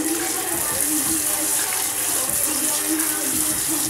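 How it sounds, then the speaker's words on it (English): Cold water runs steadily from a salon tap as hair is rinsed after a red balayage ombre colour treatment, a loud continuous rushing splash with no pauses. "I'm just going to rinse it with cold water"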